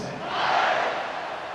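A big stadium crowd buzzes in a Texas versus UTEP college football video game, a steady, dense roar of many voices that swells toward the middle and eases off slightly by the end.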